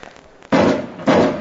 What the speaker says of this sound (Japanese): 打ち上げ花火